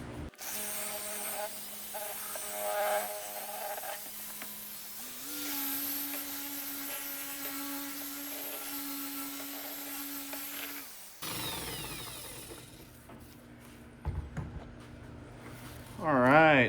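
A power polisher works on a car headlight during a junkyard E39 parts restoration, giving a steady motor whine that steps up in pitch partway through, then stops and is followed by softer handling noises and a brief squeal.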